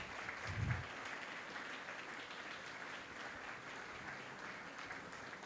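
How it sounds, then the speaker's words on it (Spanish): Faint, steady applause from a campus gathering crowd, honoring a groundskeeper said to have planted every tree, a soft broadband patter sustained for several seconds after a brief low thump near the start. "un aplauso para él"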